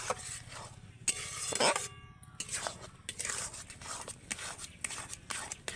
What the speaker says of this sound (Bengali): এবার আমি এইভাবে কিন্তু অনবরত নাড়তে থাকবো